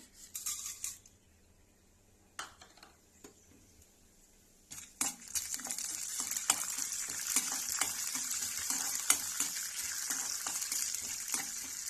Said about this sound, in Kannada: ಕಡಲೆಬೇಳೆ ಮತ್ತು ಉದ್ದಿನಬೇಳೆ, ಇದನ್ನ ಫ್ರೈ ಮಾಡ್ಕೋಬೇಕು